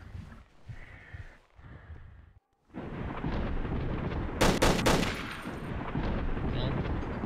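Gunfire in the military shooter game ARMA: a muffled stretch gives way to a loud sustained burst of rapid shots and a rumbling firefight, with a brief pause before and little speech.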